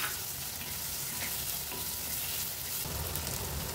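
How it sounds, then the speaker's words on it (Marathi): Finely chopped onion with a pinch of asafoetida sautéing in oil, giving a dense, steady close sizzle with faint stirring scrapes and no voices. "बारीक कापलेला कांदा तेलामध्ये परतून घ्यायचा"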